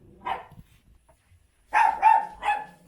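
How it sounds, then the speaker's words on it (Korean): A pet dog barks indoors in a home shared with a cat: one muffled bark, a pause, then three close, sharp barks in quick succession. "오늘따라 콩이 언니가 좀 짖네."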